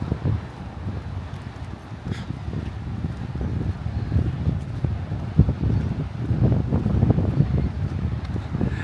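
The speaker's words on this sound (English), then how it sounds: "It is a bit windy today." Gusty wind at a seaside seawall buffets the microphone in low, uneven rumbles that build and ease, with faint rustling beneath.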